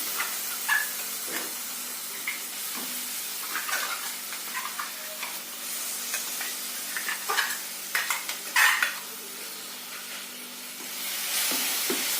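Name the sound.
chutney sizzling and stirred in a pan with tempering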